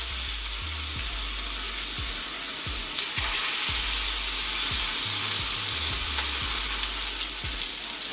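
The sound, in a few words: pork chops searing in hot olive oil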